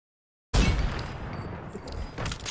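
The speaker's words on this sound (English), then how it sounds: "Just stop shooting at me." After half a second of silence, a dense burst of video-game gunfire erupts loudly and keeps rattling as a noisy sustained barrage aimed at the player, surging again near the end.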